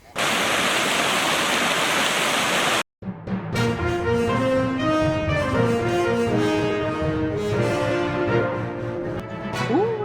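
Water from a natural spring rushes in a loud, steady, close-up torrent for a few seconds, then cuts off abruptly and gives way to music.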